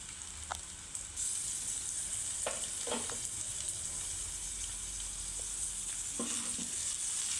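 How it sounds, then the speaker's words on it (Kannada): Boiled potatoes get stirred into fried onions in a hot pan, a steady close sizzle running throughout with a few scraping spoon strokes against the pan. "ಈರುಳ್ಳಿ ಮೇಲೆ ನಾವು ಬೇಯಿಸಿಟ್ಕೊಂಡಿರೋ ಆಲೂಗಡ್ಡೆನ ನಾವು ಇದಕ್ಕೆ ಮಿಕ್ಸ್ ಮಾಡ್ಕೋತಾ ಇದ್ದೀವಿ"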